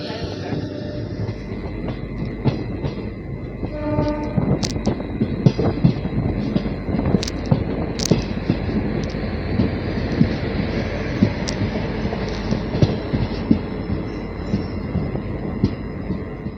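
A train runs steadily just after leaving Bagewadi railway station, with a continuous close rolling rumble, rhythmic wheel clicks and occasional brief high squeals and tones over about sixteen seconds, and no talking.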